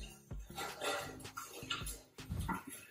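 A dog whines faintly in short, repeated nasal bursts with brief gaps between them. The sound is quiet throughout.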